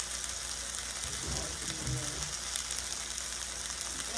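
Greek chicken sizzles and fries steadily in a hot pan, a dense, continuous hiss that holds close and loud throughout, with faint low voice fragments briefly underneath.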